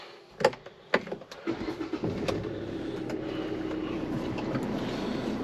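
Inside a car as it sets off, a few sharp door or seat thumps and clicks give way to a steady low engine and road rumble that continues evenly.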